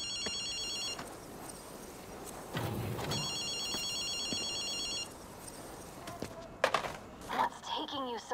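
An electronic payphone rings in Ghostwire Tokyo with two long trilling bursts separated by a pause, fairly faint under ambient game noise, followed by scattered effects and a voice near the end.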